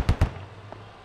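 Two heavy blasts close together from an RPG launcher in the military shooter SquadOps, each a loud boom with a long low rumble trailing behind, then a quieter pop and a sharp crack at the end.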